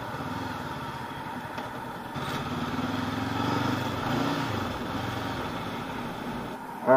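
A Voge motorcycle rides along steadily on a road and slows into a left turn, its mid-pitched engine droning continuously at moderate volume before a brief louder burst at the end.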